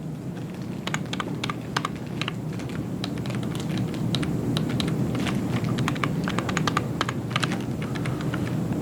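Rapid, uneven key presses on a computer keyboard, including the tab key, clatter up close as a string of crisp clicks over a steady low room hum.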